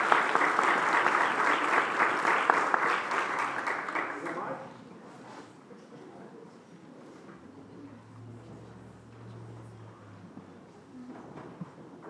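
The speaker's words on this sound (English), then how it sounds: "You can applaud for them." Audience applause in a church during a mid-day concert, a close, dense round of clapping lasting about four seconds, then dropping to a quiet room with low murmuring and a faint hum.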